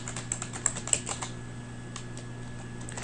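Code is typed on a computer keyboard: quick clusters of close, crisp key clicks in short bursts, then a quieter stretch, over a faint steady electrical hum.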